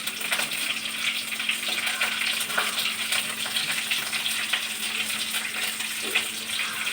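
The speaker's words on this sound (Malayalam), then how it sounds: "അങ്ങനെ പൊട്ടട്ടെ, ചടപടാന്ന് പൊട്ടട്ടെ" Mustard seeds crackle in hot oil in a home kitchen, a steady hiss of frying dotted with small scattered pops, continuous for several seconds with no talking.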